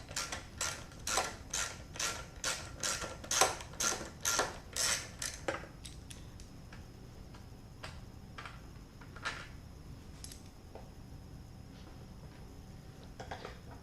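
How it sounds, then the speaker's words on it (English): A rapid series of about a dozen clicking ratchet sounds comes from the gas cap of a Kawasaki KLX140L dirt bike being twisted off, followed by a few scattered, fainter clicks and handling noises. "Gotta pull the gas cap off. It should just twist right off like that."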